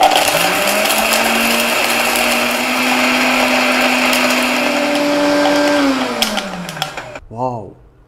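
A Raffal electric blender grinding dry spices at its lowest speed, a loud, steady motor whine with a gritty rattle of spices for about six seconds before it winds down and stops, followed by a brief voice.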